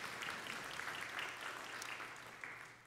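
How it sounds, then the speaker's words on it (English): A church congregation at a Sunday service claps together in a steady, moderately loud round of applause that holds for a few seconds and tapers off slightly at the end. "that's worthy of a clap"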